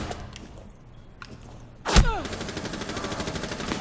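Gunfire in Rainbow Six Siege: a sharp, loud shot bursts out near the middle, followed by a dense stream of rapid, evenly spaced shots that keeps running to the end.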